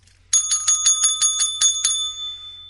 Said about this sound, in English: I am now handing over the bell